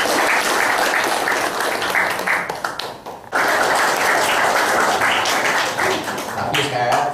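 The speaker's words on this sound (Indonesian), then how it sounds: "Tepuk tangan juga." Applause from an audience at a PSSI License C coaching course graduation in Solo, a dense wash of clapping with a brief dip midway, mixed with voices and chatter.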